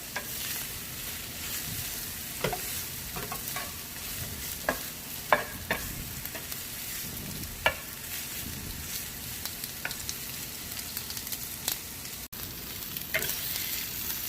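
Vidalia onions fry and sizzle steadily in a pan for smash burgers, a continuous hiss broken by occasional louder pops and crackles as they are stirred.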